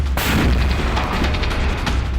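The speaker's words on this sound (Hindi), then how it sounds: "तोपें गरज रही हैं, बंदूकें बरस रही हैं" Artillery cannon fire and gunfire as a dense war sound effect, a sustained loud roar of booms and rumbling blasts with sharper cracks layered through, continuous and heavy with no pauses or talk.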